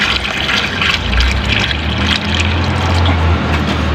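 Water pours steadily from a container into the soil of a potted grape plant on a rooftop, a loud, continuous splashing fill with no pauses.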